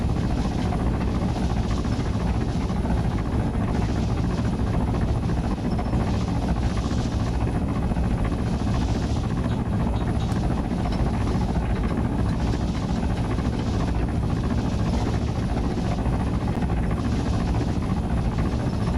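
A helicopter in a video game thrums with a loud, continuous rotor roar and steady engine drone that stays unchanged for the whole stretch, with no talk over it.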